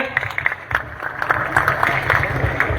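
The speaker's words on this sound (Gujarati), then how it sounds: "આ સ્વાગત કરે છે તો જોરદાર તાળીઓથી આપણે એને વધાવીએ." Crowd applause welcoming a speaker at a farmers' protest in Jetpar: a short stretch of scattered, energetic clapping mixed with a public-address voice talking over it.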